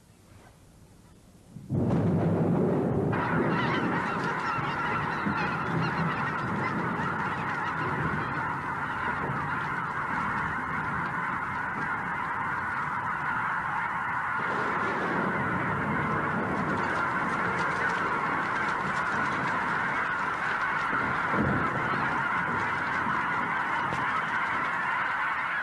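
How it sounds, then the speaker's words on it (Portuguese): A large flock of snow geese departing from the Klamath Basin honks loudly and continuously after a brief quiet start, a dense, sustained chorus of overlapping calls. "Assim, os gansos das neves partem"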